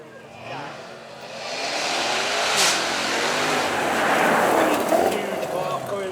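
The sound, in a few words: Jaguar supercharged V8 car accelerating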